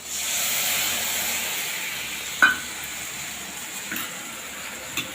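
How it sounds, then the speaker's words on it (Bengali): Water added to a cooking pan of fried onions and spice paste, giving a steady steamy hiss that fades, then a sharp clink and a few soft stirring knocks. "আবারও একটু জল দিয়ে দেবো"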